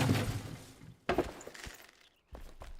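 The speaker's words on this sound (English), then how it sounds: "I haven't figured out how to turn the smashing noise down" Smashing noises from Enshrouded: a few short, sharp shattering cracks, separated by brief pauses and fairly faint, with light clinking in between.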